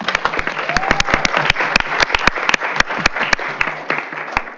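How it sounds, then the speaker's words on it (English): A crowd at a school district board meeting applauds steadily, with sharp individual claps standing out over a dense wash of clapping. "we can give an applause after each person"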